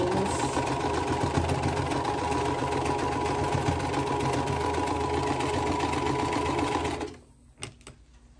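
A sewing machine stitches steadily over thick quilt block seams for a Happy Horse block, a loud continuous mechanical whir that stops abruptly near the end, leaving a couple of small clicks.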